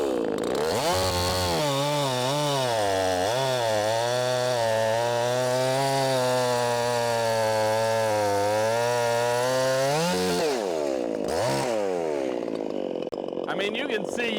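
An Echo CS501P chainsaw cuts into a log under heavy load, its loud engine note sagging and straining for about ten seconds, then revving back up once the cut eases.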